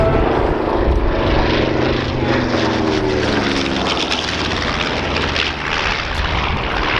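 Propeller engines of a B-25 Mitchell bomber, flown by the Dutch Historical Association at the Dunsfold Wings & Wheels airshow, give a loud, steady, throbbing roar that holds for several seconds before easing slightly near the end.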